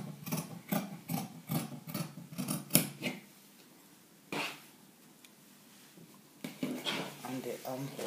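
Scissors trimming fabric at the front of a garment, a rapid run of crisp close snips, then a pause, then a few more cuts mixed with talking.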